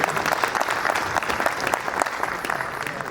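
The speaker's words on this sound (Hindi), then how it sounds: "जितने अतिथि आए हैं एक बार जोरदार ताली के साथ उनका स्वागत करिए।" At a Hindi poetry gathering in Anuppur, an audience gives loud applause to welcome guests, a continuous crackle of many hands with small surges, steady and fairly close.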